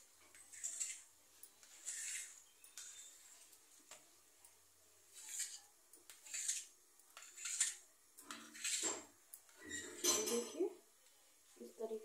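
A knife cuts set besan gatte on a plate with light clinks and scrapes of metal on crockery, in short separate bursts spread through a quiet stretch.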